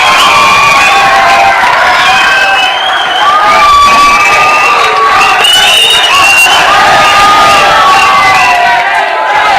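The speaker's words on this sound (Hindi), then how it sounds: "एक बार जोरदार तालियां फॉर वन एंड ओनली" A loud crowd cheers and shouts continuously at a CA Foundation law class, with whoops and a few raised young voices. Any applause is buried under the steady cheering throughout.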